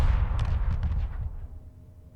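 Explosions and weapon fire from the space strategy game Stargate Space Conflict, a dense rumbling barrage of blasts and bursts that builds and then fades over a couple of seconds.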